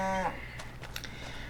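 Cattle in Farming Simulator 25 give a single short, close moo, followed by faint rustling and ambient farm noise.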